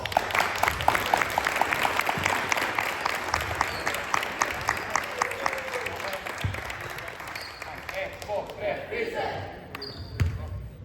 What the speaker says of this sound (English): They have again one applause for the boys for helping us